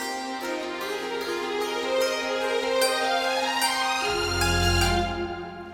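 Orchestral strings sweep upward in a big run, a dense wash of bowed tones climbing and swelling, with a deep low rumble entering toward the end as the phrase resolves.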